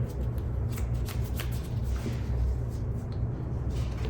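A deck of trading cards being shuffled and cut by hand, with continuous close riffling and flicking of cards for several seconds and no talking.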